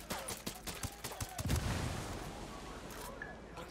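Frag grenade blast in Ghost Recon Wildlands, a loud burst near the middle with a rumbling decay, set among rapid gunfire cracks in a busy combat mix.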